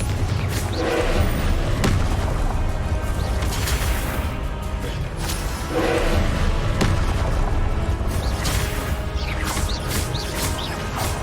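Confringo fire spell explosions in the Hogwarts Legacy video game, a loud continuous barrage of booms and crashing blasts repeating every couple of seconds, with no talking.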